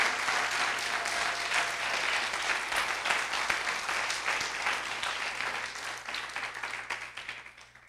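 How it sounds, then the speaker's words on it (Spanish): Church congregation applauding during a Spanish-language sermon, a sustained, dense wash of clapping from many hands that stays loud throughout and tapers slightly near the end. "Si le van un aplauso al Señor Jesús, déselo con ganas"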